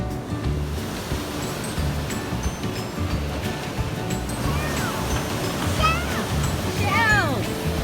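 Surf rolls in on a windy beach with a constant wash of breaking waves and wind noise, while voices, including high-pitched children's voices, talk and call out over it.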